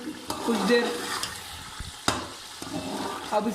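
Kachnar keema with tomatoes cooking in an uncovered pan, a steady close sizzle with scraping stir strokes and a few sharp utensil knocks on the pot.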